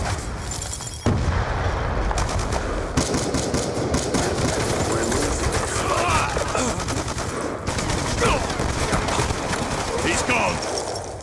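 Rapid bursts of gunfire in a shooter video game, loud and sustained with dense overlapping shots and booms, while players call out over the action.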